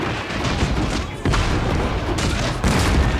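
Matchlock volleys crack and boom across a Shogun 2 battlefield against Nodachi samurai, a dense layered fusillade rolling on with fresh waves, and faint voices mixed into the roar.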